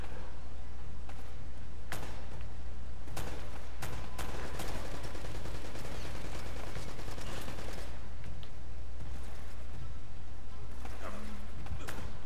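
Gunfire from a firefight in Uncharted: Drake's Fortune, with repeated sharp shots and bursts crackling across a steady low background rumble, some louder and closer, others more distant.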